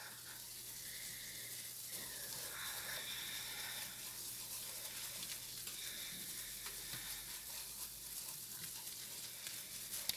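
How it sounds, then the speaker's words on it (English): Butter and flour roux stirred steadily in a pan, giving a continuous soft sizzle and frying hiss with faint scraping throughout, close and even, no voices. "it's just butter and flour, and you want to keep moving it because you want to cook out that flour taste."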